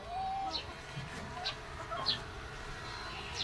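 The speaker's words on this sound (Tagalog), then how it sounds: "Ilagay ko na rito yung mga rooster lahat. Sama-sama na sila dyan." Roosters kept together in a pen give a few short, faint clucks and calls over a steady farmyard background hum, spaced irregularly through the clip.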